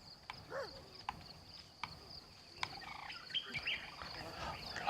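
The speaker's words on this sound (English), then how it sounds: "little birds in the morning" Small morning birds chirping in a prehistoric jungle video game, with several short, sharp chirps scattered over a faint steady insect drone, moderately quiet and somewhat distant.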